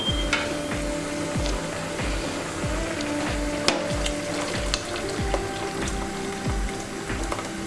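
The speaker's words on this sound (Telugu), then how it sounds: "ఇప్పుడు మనం చింతపండు పులుసు వేసుకుందాం." Tamarind water hitting onions frying in a pan for masala vada pulusu, giving a steady close sizzle and crackle with a regular rhythmic stirring or scraping pulse throughout, no talking.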